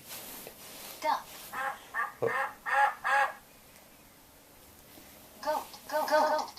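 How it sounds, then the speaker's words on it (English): A duck quacks in two groups of short, nasal bursts, with several calls close together early on, a quiet pause, then another cluster near the end, all fairly close and clear. "Duck."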